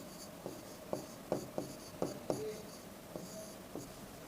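Sanskrit words being written by hand, producing soft scratches and taps of a pen or chalk in uneven strokes, a dozen or so short marks over a few seconds, close and quiet.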